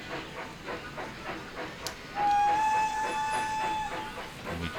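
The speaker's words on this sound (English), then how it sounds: "And then we can watch the train go." Steam train running in the Railroad Tycoon 3 video game: a steady hiss and rumble with a sustained whistle-like tone in the middle, fairly loud and alone.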